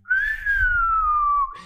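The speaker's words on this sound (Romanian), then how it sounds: "Aș putea să-mi folosesc fluierul." A cartoon character blows a whistle: one long, clear tone that rises briefly and then slowly glides downward, loud and close, ending with a short breathy burst.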